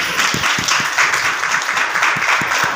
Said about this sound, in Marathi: म्हणून एक ताईसाठी अजून पुन्हा आपल्या परिवारासाठी आम्ही जोरदार टाळ्या वाजवू